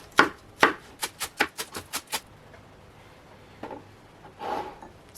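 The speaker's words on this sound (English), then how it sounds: "So I'm just going to cut up the chives" Fresh chives are chopped with a knife on a board: a quick run of about eight sharp, evenly spaced close taps, followed by a few softer scraping and rustling sounds, with no voices.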